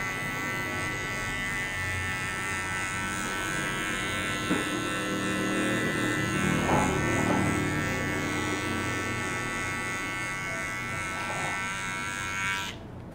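Electric hair clippers buzzing steadily as they shave the back of a neck at a barbershop, a close, even drone with slight changes in tone as the blade moves over the hair, then cut off at the end.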